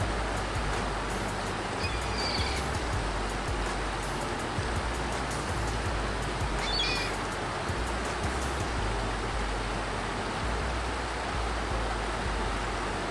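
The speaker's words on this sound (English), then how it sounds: "The water never stopping, endless, tumbling over the rocks." Water tumbling endlessly over rocks in a stream, a steady broadband rush that fills the whole stretch without pause, close and constant, with a few faint higher sounds briefly above it.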